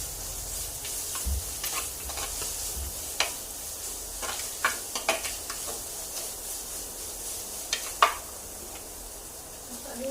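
Ginger garlic paste is stirred in a frying pan for a chicken dish. A low, constant sizzle carries scattered scrapes and taps of the spatula against the pan.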